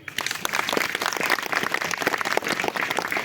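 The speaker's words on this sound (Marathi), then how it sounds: "त्यांच्यासाठी टाळ्या वाजवा" An audience applauds, a dense crowd of clapping hands filling the air steadily throughout.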